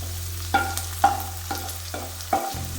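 Grated coconut frying in a pan with a pinch of salt, stirred in four or five distinct scraping strokes over a low steady hum, close and alone.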